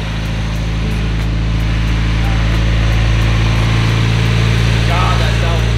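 A tuned project car engine idling with a smooth, steady low rumble and a constant hum, loud and close throughout, with no talk over it.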